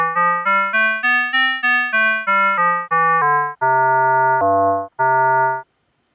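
FM synthesis tones programmed in Pure Data, with a bright, harmonic timbre. About a dozen short, clean notes step up in pitch and back down, then three longer, lower sustained notes follow, all loud and alone.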